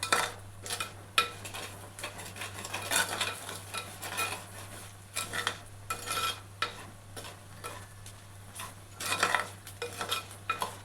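Chilli and coriander powder being sautéed for a Tamil Nadu vatha kulambu, with a ladle stirring and scraping through the pan in steady repeated strokes over a soft sizzle and a constant low hum.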